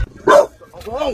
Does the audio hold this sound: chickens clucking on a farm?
no